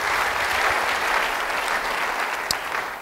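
Congregation applauding during a church sermon, a steady wash of clapping hands filling the room for the full three seconds with no voice over it.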